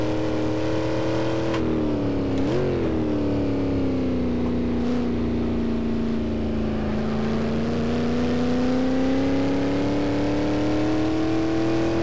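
A Shelby Cobra's V8 drones loud and steady at Nordschleife in the Assetto Corsa racing game. The pitch dips early, then holds a low pitch through a long run before rising slowly again.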